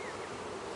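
Honey bees buzz densely and steadily around an opened beehive, a close, continuous drone with no break and no voices.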